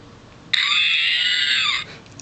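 A 2004 R2-D2 Dagobah lights-and-sounds action figure gives one sustained, high electronic screech lasting over a second, loud and close, with no talk.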